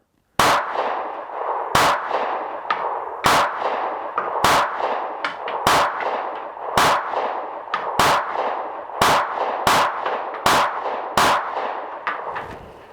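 Taurus GX4 micro compact 9mm pistol fired at an outdoor range, about ten sharp loud shots spaced roughly a second or more apart, with ringing decay between them and no talk.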